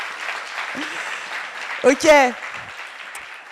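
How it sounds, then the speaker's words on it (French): Audience at a startup pitch event applauding the jury, a soft continuous patter of clapping under a short spoken word and a loud cheering whoop in the middle. "Ouais, alors on applaudit le jury."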